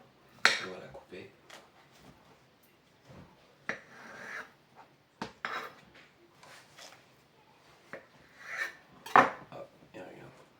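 A knife slices a peeled banana, producing scattered soft taps and clinks against a surface, close and quiet, with a voice speaking between the cuts.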